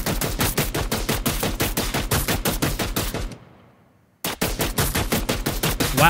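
Enemy gunfire in the FPS video game Zone of Death: loud, rapid automatic bursts of shots that cut off abruptly into near silence for about a second, then resume just as fast.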